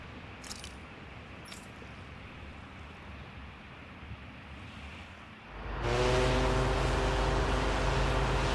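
Ship setting sail across the sea in the video game Tales of Arise: a quiet stretch of ambient noise with a couple of faint metallic jingles, then a sudden loud, steady rush of water and wind with a low engine-like hum, with no talking.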